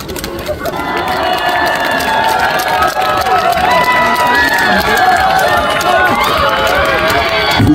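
At an outdoor concert, an audience claps and cheers loudly and continuously in a dense, close crowd roar, with a voice speaking over it.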